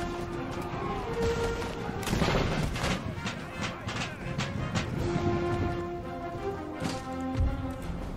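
Musket volleys crackle in Empire: Total War during the siege of Moscow, rolling massed shots against Swiss pikemen, set in a constant wash of battle noise with someone talking over it.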